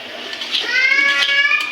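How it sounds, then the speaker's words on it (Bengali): A baby cries at home, a single drawn-out wail with rising and falling pitch, close and fairly loud, heard alone without talk. "বাবু কান্না করছে"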